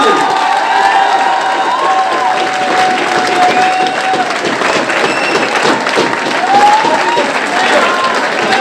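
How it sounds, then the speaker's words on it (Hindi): Steady, dense applause from a seated audience at a Hindi poetry gathering, continuous and loud throughout, with a few shouts and voices mixed into the clapping. "हाँ, तालियां बजाएं"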